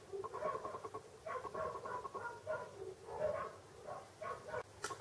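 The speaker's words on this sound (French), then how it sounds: "Alors je suis désolée si vous entendez mes chiens aboyer" Dogs bark indoors in a home, giving a rapid run of muffled, yappy barks across the whole stretch, steady and moderately close.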